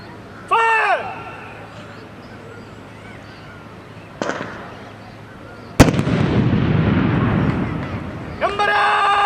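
Rifle shots crack out during a passing out parade demonstration by recruits of a BSF training centre, a few sharp loud reports with a rumbling echo between shouted commands.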